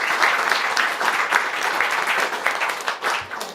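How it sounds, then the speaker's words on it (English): Audience giving another round of applause at a talk on William Penn's contributions, full, even clapping from a crowd, sustained throughout and tapering slightly at the close. "how about another round of applause?"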